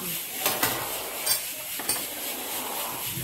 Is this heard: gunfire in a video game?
no